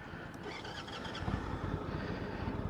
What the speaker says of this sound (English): You can definitely hear the exhaust.